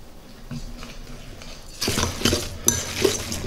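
Potato latke batter with egg, salt, pepper, garlic powder and flour being stirred in a bowl, a soft steady scraping that turns louder and busier after a couple of seconds, with utensil clinks against the dish.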